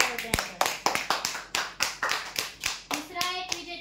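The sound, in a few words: audience applause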